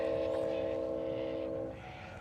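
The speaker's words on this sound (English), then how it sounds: "The train's moving." A train rumbles past at a distance with a steady tonal drone, fading noticeably toward the end.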